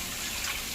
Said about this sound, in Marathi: पाणी घालूया